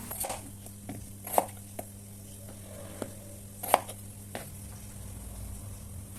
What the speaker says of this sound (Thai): นำแครอทมาปอกเปลือกแล้วหั่นเป็นชิ้น